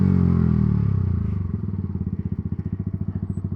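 A Yamaha R125 motorcycle, a 2023 model, rides past close and loud, its engine droning steadily and then settling into a rhythmic, pulsing thrum as it slows, with no voices over it.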